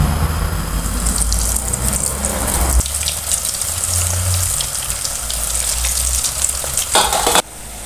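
Spiced potato nuggets fry in hot oil with a loud, close, continuous bubbling sizzle. A brief clatter comes near the end and the sizzle drops sharply, with no talking.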